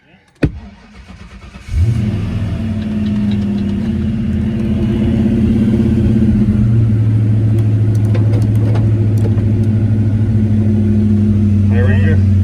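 A 1995 Ford Mustang Cobra with a newly installed MAF sensor cranks and fires up, then holds a loud, steady rev during a burnout attempt, its engine drone close and continuous throughout.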